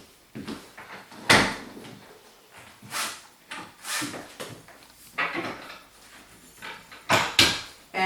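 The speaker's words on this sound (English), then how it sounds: "it folds out to create a nice table" Folding studio table on wheels being unfolded and rolled into place, a series of separate knocks, clunks and scraping rubs spread unevenly across the stretch, fairly close.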